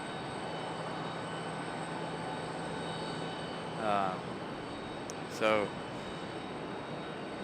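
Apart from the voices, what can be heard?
Boeing 777 airliner in oneworld livery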